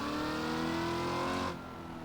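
A boosted Mustang engine in the BeamNG.drive driving game, revving in a sustained high-pitched drone that climbs steadily, then drops off abruptly to a quieter idle near the end.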